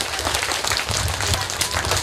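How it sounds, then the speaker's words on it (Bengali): An audience at a school Independence Day event gives continuous, fairly distant applause, a wash of many hands clapping at once that holds steady for a couple of seconds. "একটা জোরদার হাততালি হবে"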